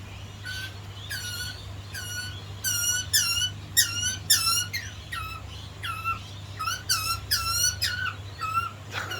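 Baby butcherbird calling repeatedly with bright, chirping squeaks while a parent feeds it, the begging calls coming in quick bursts close by over a steady low background hum.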